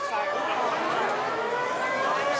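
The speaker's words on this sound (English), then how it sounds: "I believe that is the fire alarm system in the hotel." A hotel fire alarm sounds continuously during a presentation at the 2015 Hot Wheels Convention in Los Angeles, a steady electronic wailing tone, with a voice faintly audible underneath.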